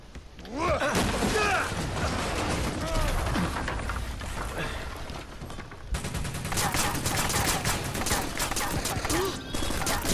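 Sustained gunfire in the video game Watch Dogs, dense bursts of shots and automatic fire crackling continuously from start to finish, loud and close, with game sounds layered in and a short talking voice.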